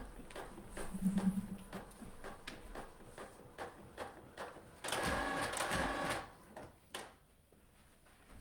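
A printer runs in a quiet room with a rapid series of mechanical clicks and taps, then about a second of louder feeding and rattling, before it stops with a final click.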